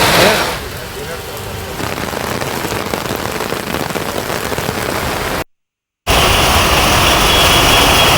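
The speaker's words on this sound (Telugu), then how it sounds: "కాచిగూడలో వర్షం దంచుకొట్టింది" Heavy rain pours down in the Kachiguda area of Hyderabad as a dense, loud, steady hiss of rain on surfaces, broken briefly by a moment of silence before resuming.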